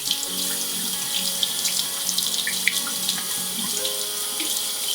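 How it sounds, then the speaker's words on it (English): Water runs steadily from a tap over a refrigerator water filter, a continuous splashing hiss with faint irregular drips and clinks, close by and without voices. "I'll just gently run some water over it to get off any excess dust"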